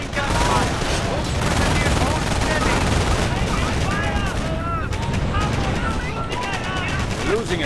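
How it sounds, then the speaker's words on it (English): Dense, sustained gunfire from a World War II video game battle, with rapid machine-gun bursts and overlapping shots running loud and continuous throughout, with voices talking over the din. "Incoming gunfire!"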